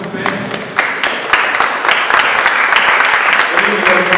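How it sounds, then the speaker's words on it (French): Conference audience applauding, dense clapping that swells after the first second and carries on steadily and loudly, with a voice heard faintly at the start. "Est-ce qu'on peut les applaudir, s'il vous plaît?"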